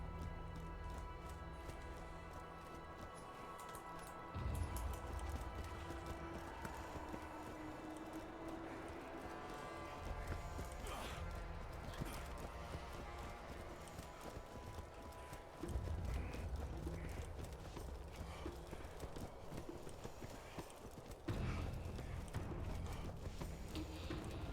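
A horse gallops in the Borderlands video game, its hooves clip-clopping in a quick, steady rhythm under continuous mechanical game ambience, fairly faint, with periodic low thumps.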